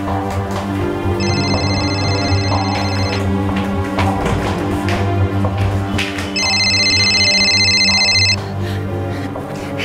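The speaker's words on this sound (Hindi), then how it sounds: "माँ, ये फोन किसका बज रहा है? शायद बाथरूम से आवाज आ रही है" A mobile phone rings from a bathroom in two electronic bursts separated by a pause, heard over a dense, steady background bed.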